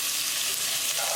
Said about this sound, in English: Add ginger, garlic,